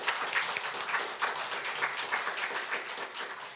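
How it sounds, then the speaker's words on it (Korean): Audience applause at a Korean ESG society forum, a formal conference hall event, as a steady wash of many hands clapping continuously at moderate level without a voice on top. "우리 위원장님 위해서 박수 한번 쳐주시기 바랍니다"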